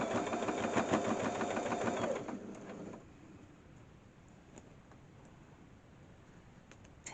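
A sewing machine stitches a padded cushion cover in a fast, steady mechanical run for about two seconds, then stops and leaves a quiet hum.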